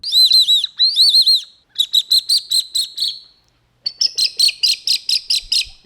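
Wooden bird call imitating the songs of various birds, bright whistled chirps in four rhythmic bursts separated by short silences, close and clear.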